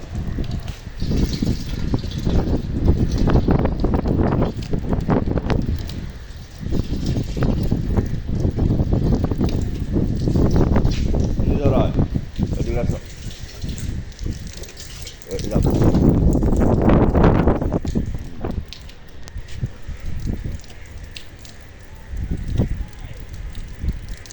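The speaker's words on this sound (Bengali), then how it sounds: "ঘূর্ণিঝড়" Stormy cyclone wind rushes and roars steadily on a rainy morning, loud and close with gusting surges, while voices talk intermittently over it.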